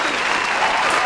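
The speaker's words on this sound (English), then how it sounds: "round of applause" Audience applause for a magic trick, a dense, steady wash of clapping from a group, loud and continuous over a brief moment.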